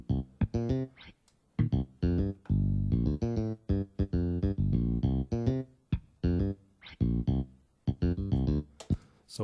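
A mixed bass groove carries string slides and percussive thumb pops, with choppy, punchy notes in tight rhythmic bursts separated by short gaps, loud and upfront throughout.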